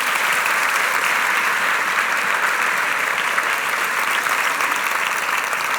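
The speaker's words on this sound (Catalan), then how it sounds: "Un aplaudiment per tots ells." A theatre audience claps continuously and evenly for several seconds, filling the hall at a steady level, with no speech over it.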